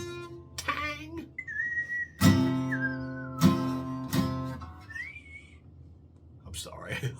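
Someone whistles a wandering tune in short melodic phrases, with sliding notes between louder bursts of voice-like sound.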